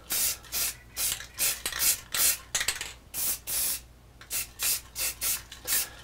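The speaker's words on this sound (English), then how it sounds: "Okay, let's spray it and see what happens" Aerosol can spraying primer onto a router-carved wooden address sign in a workshop, a series of about a dozen short hissing bursts, each roughly a third of a second, repeated at a steady rhythm close to the mic.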